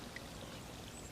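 Water pours steadily from a pressed flexible water bag at a base camp, a continuous close splashing stream with no talk.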